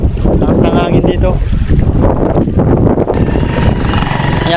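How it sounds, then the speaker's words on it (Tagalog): Strong wind buffets the microphone near the water in a loud, steady roar with gusty swells, and a voice talks under it. "Lakas ng hangin dito."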